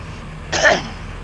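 A single short cough, close and fairly loud, bursting out over a quiet background hum.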